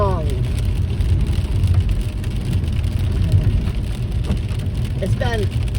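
Rain hisses steadily while cars swish past on a wet road, with a soft vehicle sweep near the start and another near the end.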